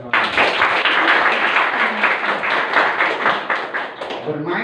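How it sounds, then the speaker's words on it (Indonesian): A group of participants in an Indonesian play-and-learn workshop clapping their hands together, a dense, loud burst of clapping lasting several seconds before fading out, with scattered voices mixed in. "Tepuk tangan untuk kita semua."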